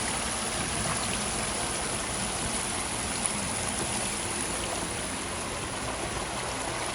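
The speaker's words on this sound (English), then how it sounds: "Even got a little mini waterfall over here." Water rushes and splashes continuously in a steady, broad wash from a small waterfall on a pondless aquascape flowing close by, with no voices.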